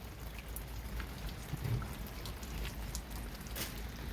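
Rain falls during a caravan camping trip, a faint, steady patter with a few sharper drops standing out now and then, and no talking.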